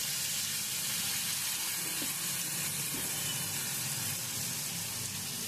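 Potatoes sizzling in a pan with salt after a dry chilli tempering, cooked for Bankura-style alu posto without turmeric: a loud, close, unbroken hiss that stays steady throughout, with no voices.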